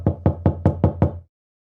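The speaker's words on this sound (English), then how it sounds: "Now, this verb, pounding, it sounds like this." A pounding knock repeated six times at an even, quick pace, each hit loud and close with a short ringing decay, then sudden silence.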